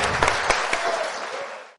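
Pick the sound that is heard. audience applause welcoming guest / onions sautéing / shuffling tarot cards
audience applause welcoming guest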